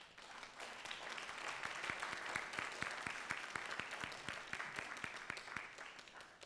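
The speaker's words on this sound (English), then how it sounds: "Students, I think you should give your parents a round of applause." Students at an honors convocation applaud their parents, a faint, distant wash of many hands clapping throughout, with a few sharper individual claps standing out near the front.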